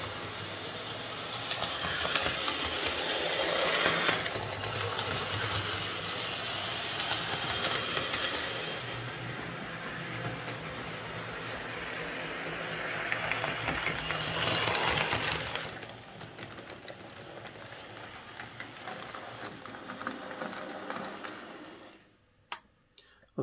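Hornby Ivatt Class 2 model locomotive with tender attached runs along its track, giving a steady rolling whir with fine rhythmic clicking, swelling and fading as it passes, then stopping near the end with a few sharp clicks.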